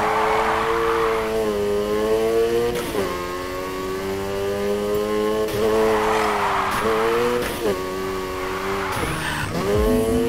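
In the Need For Speed Heat racing game, a car revs hard through repeated drifts, engine pitch rising and falling in waves with tire squeals at each slide, loud and continuous with no talk.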